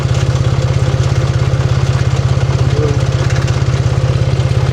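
Ford 3430 tractor engine running steadily with a fast, even low-frequency chug, close and loud, with a faint rattle above it and no talk.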